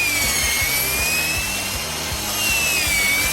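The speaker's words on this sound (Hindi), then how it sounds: "अब मैं इसमें एक छेद बनाती हूँ," A small drill bores a hole into a watermelon, a steady whirring buzz with a repeating rhythmic grind, moderately quiet and close, with no talking.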